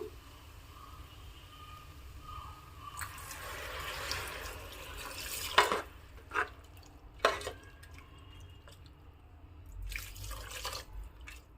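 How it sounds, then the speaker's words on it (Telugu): Water splashes and pours into a pressure cooker of goat tripe curry in a few short bursts, with drips between them, fairly quiet over a low background hum. "ఇప్పుడు దీంట్లో వాటర్ వేసుకుందాము"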